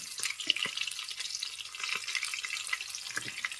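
Cauliflower, carrot and beans go into a frying pan of hot oil and spices, setting off a soft, steady sizzle broken by a few clattering stirs and pan knocks.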